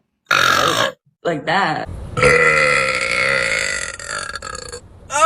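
A girl lets out a long, loud burp during a burp battle, preceded by a couple of shorter belches with brief pauses, as people talk around her.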